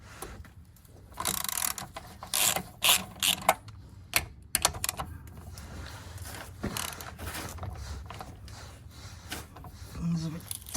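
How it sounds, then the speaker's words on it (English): A ratchet wrench undoes tightly torqued bolts on a Dax Cobra kit car, giving quick runs of close metallic clicks in uneven bursts, then softer fiddly clatter as work continues. "undo these bolts here. It's torqued up quite well, and this one as well."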